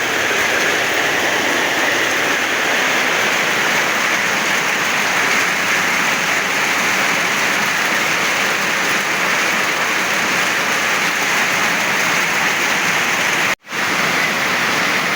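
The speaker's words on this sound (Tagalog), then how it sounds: "Lumakas lang lumakas ang ulan mga kapiks." Loud heavy rain pours in a dense, unbroken roar close by, holding steady for the whole stretch, cut by a single brief gap near the end, with no voices.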